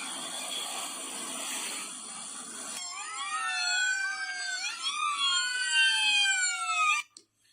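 Several police sirens from a large escort of police cars around an oil tanker in Florida wail together, overlapping rising and falling tones sweeping loudly after a burst of noisy traffic, then cutting off abruptly.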